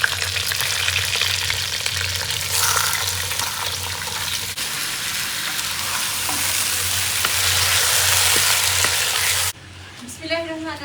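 Chicken pieces frying in oil with cumin seeds and black peppercorns for an Andhra chilli chicken curry, a loud steady sizzle with stirring scrapes, then a sharper crackle in the last second.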